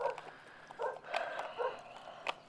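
Dog on a walk in warm weather making a few short, soft yips and whimpers in quick bursts, fairly quiet and close, with no talking.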